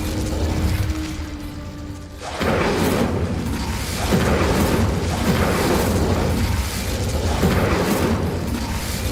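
Incendio fire spell cast in Hogwarts Legacy, bursting in with a sudden whooshing boom after a quieter stretch, followed by repeated rumbling fiery blasts and mechanical clatter, loud and close with no talking.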